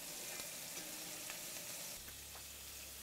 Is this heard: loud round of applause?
no